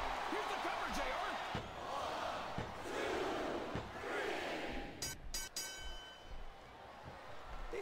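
Arena crowd in WWE SmackDown! vs RAW 2007 roars steadily through a wrestling match, with sharp slam impacts and commentators talking over the noise.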